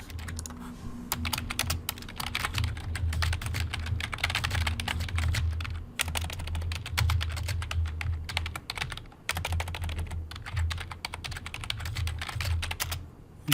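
Steady typing on a computer keyboard, close and fairly quiet, with dense rapid keystrokes in bursts separated by a few brief pauses and no talk over it.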